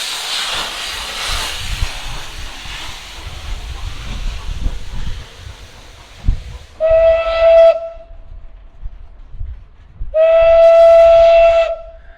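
A Mazutka steam train chuffs and hisses as it passes, followed by two long, loud, tonal whistle blasts separated by a short gap, with no voices present.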